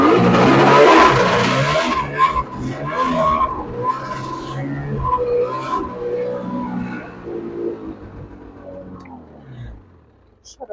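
A snowmobile engine runs loud and close on an icy track, its revving note wavering and gradually winding down toward idle as it nears shutoff.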